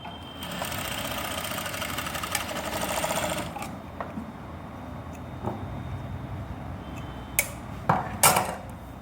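Sewing machine stitching a temporary basting seam along the centre of a neckline, a steady close mechanical whirr for the first few seconds, then quieter handling clatter and a few short sharp knocks near the end.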